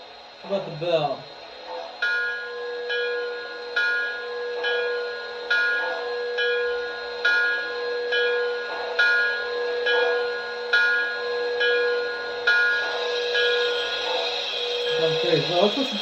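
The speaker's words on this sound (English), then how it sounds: "How about the bell?" Bell on an MTH Nickel Plate Road 599 model steam locomotive rings in a steady, even rhythm, close and clear, about a dozen strokes, with brief speech at the start and end.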